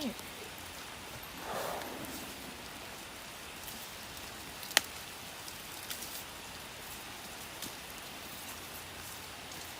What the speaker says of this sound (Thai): ฝนตกก็จะประมาณนี้นะคะเฉอะแฉะไปหมดเลยนะคะ